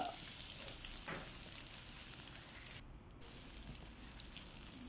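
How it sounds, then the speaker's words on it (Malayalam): Chopped ripe Kerala plantain added to a hot pan with fried cashews and raisins, giving a continuous close frying hiss that briefly drops out for a moment before resuming. "ഒന്ന് ഫ്രൈ ആയതിനു ശേഷം ഇതിലേക്ക് നുറുക്കി വെച്ച നേന്ത്രപ്പഴം ഇടുക"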